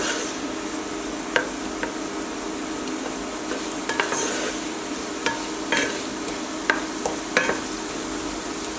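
Potatoes fry in hot oil, a steady sizzle broken by sharp scrapes and clinks of a spatula stirring them in a pot, recurring every second or so throughout.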